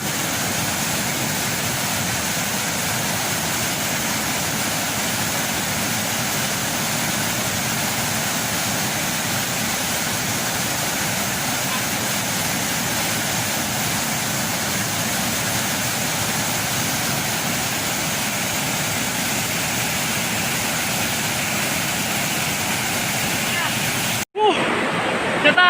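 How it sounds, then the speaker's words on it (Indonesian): A waterfall on a remote, rarely visited river pool roars as a steady, loud broadband rush of falling water that runs unbroken and cuts off abruptly near the end. "Ini air terjunnya tadi."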